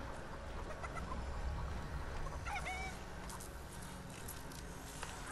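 A chicken in Fortnite clucks and honks in short bursts over a steady background of game sound. No talk is heard.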